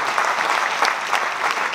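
An audience at a celebratory anniversary gathering for a trade fair claps steadily, a dense close patter of many hands with no voices over it.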